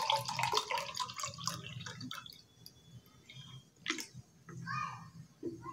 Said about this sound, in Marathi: मोजून पाणी घेते